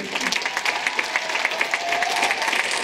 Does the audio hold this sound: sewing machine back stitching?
no